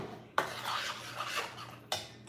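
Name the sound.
stirring food in a pot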